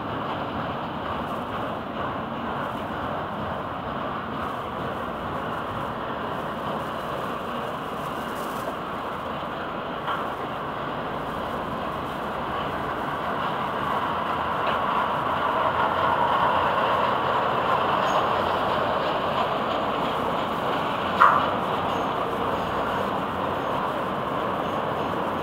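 A distant, low rumbling FEC freight train slowly gets underway, a steady muffled drone that swells gradually, with a faint clank near the end.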